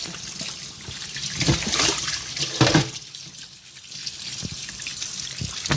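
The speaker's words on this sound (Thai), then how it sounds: "จากนั้นก็ล้างน้ำนะคะ ให้สะอาดเลย เอาเกลือออก" Pork tongue washed under running tap water gives a close, splashing flow with trickles and drips that swell and ease as the meat is handled, and no talk.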